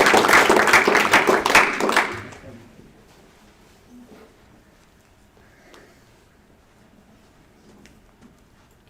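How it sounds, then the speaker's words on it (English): Audience at a middle school spelling bee gives a brief burst of clapping for the spellers, loud for about two seconds before quickly fading into a quiet room with faint rustles. "let's give our spellers a round of applause"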